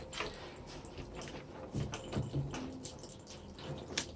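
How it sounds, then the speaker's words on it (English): Tap water running into a reptile tank during cleaning, a soft, steady trickle with faint splashes and drips, fairly quiet and close. "You just get the water going."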